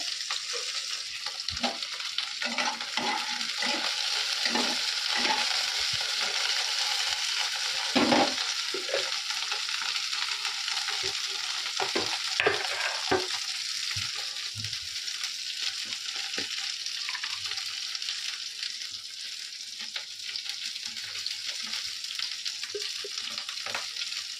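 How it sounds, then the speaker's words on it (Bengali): Boiled potato pieces fry in hot oil on a gas stove with a loud, steady sizzle, punctuated by repeated scraping and clattering as a utensil stirs them through the pan. "তেলের মধ্যে আমি আলুটা ভাজা ভাজা করে নিচ্ছি"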